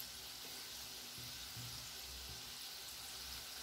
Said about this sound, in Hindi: इसे लो मीडियम पे तल रही हूँ मैं ताकि अंदर तक पके